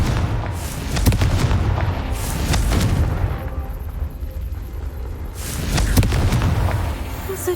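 A Confringo fire spell in Hogwarts Legacy, a series of heavy booming blasts with crackling bursts, two strong clusters of loud explosions separated by a quieter rumbling stretch, alone without talk.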